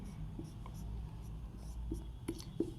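Chalk or marker writing on a board during a physics class, heard as a few faint, scattered scratchy strokes under quiet room noise.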